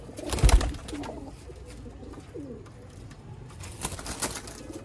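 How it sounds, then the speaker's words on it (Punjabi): A group of Sialkoti black-faced pigeons coos close by, with low throaty calls and a louder burst near the start, and no talk. "ਇੱਕ ਅੱਛੀ ਵੀਡੀਓ ਸਿਆਲਕੋਟੀ ਕਾਲੇ ਮੂੰਹ ਵਾਲੇ ਕਬੂਤਰਾਂ ਦੇ ਮੁਤਲਕ"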